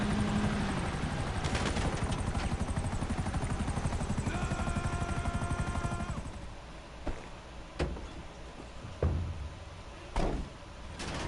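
A helicopter drones loud and steady in GTA Online for about six seconds, then gives way to sparse sharp bangs and thuds like gunshots and a door slam.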